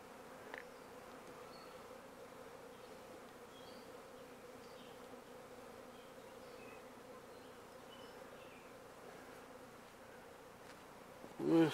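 Swarm of honey bees buzzing around a cage, a soft steady hum from many wings that holds throughout, with a brief louder rustle near the end.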